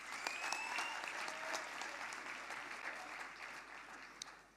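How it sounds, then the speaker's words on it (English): Applause at an autumn university graduation ceremony for the law and health sciences faculties, a dense, continuous patter of many hands clapping from a large crowd, steady and even in a big hall. "Let's give them a warm round of applause."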